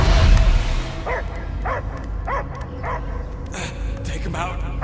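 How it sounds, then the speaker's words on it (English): A dog barks repeatedly in Marvel's Guardians of the Galaxy, roughly every half second, with game voices and background score running underneath. "I hear only barking."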